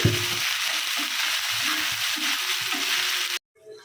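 Ginger-garlic paste fries with onions in a pan for a koi fish curry, a steady sizzle with soft stirring scrapes, cutting off abruptly near the end.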